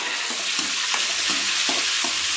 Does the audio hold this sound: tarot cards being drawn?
no